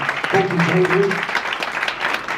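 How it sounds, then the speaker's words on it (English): Audience applause at a theatre play launch in London, a broad wash of clapping under a voice speaking over it, with the clapping continuing steadily after he stops. "And another big round of applause for Bob Golding, Damien Williams and Simon C"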